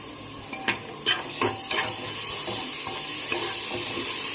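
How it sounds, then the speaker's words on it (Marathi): Ginger-garlic paste sautéed with onions in hot oil, a loud continuous sizzle near at hand with several sharp spatula clinks and scrapes against the pan early on, no voices. "कांद्यासोबत आपण आलं लसूण पेस्ट पण छान परतून घेऊया"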